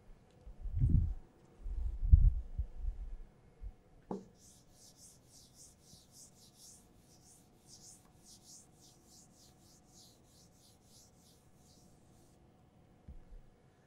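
Chalk or marker strokes on a classroom board during a thermodynamics lecture sound as a run of soft, rapid scratches in the middle of the passage, faint and close, after a few low thumps at the start.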